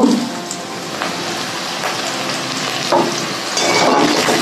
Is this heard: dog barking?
no